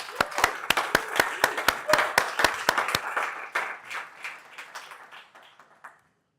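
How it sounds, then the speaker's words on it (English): Audience at the opening of a decentralized AI hackathon bursts into a round of applause, with sharp loud claps near the mic up front and a dense crowd of clapping that fades out over about six seconds. "I think we should give them a round of applause."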